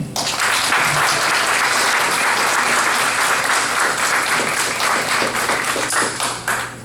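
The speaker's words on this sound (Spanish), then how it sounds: "Un fuerte aplauso, por favor." Audience at a chemical engineering week event applauding a guest speaker being introduced; loud, dense, sustained clapping from a full room that holds steady for several seconds before tapering off at the end.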